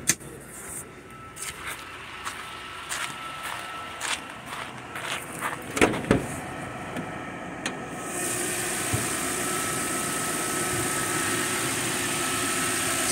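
A 2002 Toyota Land Cruiser with the hood open: footsteps and light knocks walking around, then the engine settles into a steady, even idle that fills the rest of the clip.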